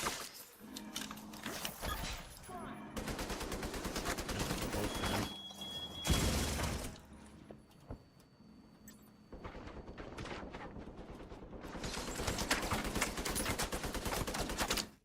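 Rapid automatic gunfire in the video game The Division 2, dense bursts of shots rattling almost continuously with brief pauses and loud, close bangs between them.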